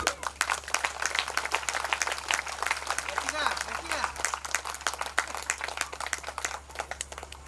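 Audience applause at a poetry gathering honoring Jonnavithula Ramalingeswara Rao: dense, continuous clapping from a crowd with a voice talking over it.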